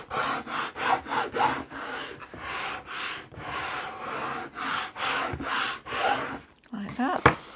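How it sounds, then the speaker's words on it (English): Repeated rubbing strokes as craft material is burnished down onto a cutting mat, a steady series of scraping passes close by, ending with a brief sharper knock. "burnish that down"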